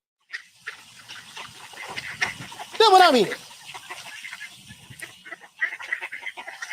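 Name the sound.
duck quacking sound effect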